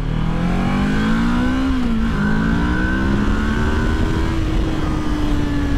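A motorcycle with fuel injector cleaner in its tank accelerates in third gear. The loud, close engine drone rises steadily in pitch, dips once briefly, then keeps climbing smoothly with no talk.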